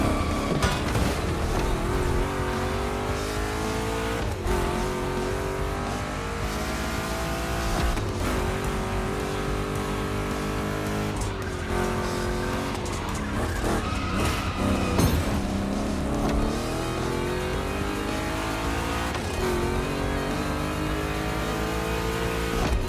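Two Chevrolet big-block cars race in The Crew Motorfest, engines roaring loud and continuous with rising and falling revs through gear changes, a dense unbroken wall of close engine noise.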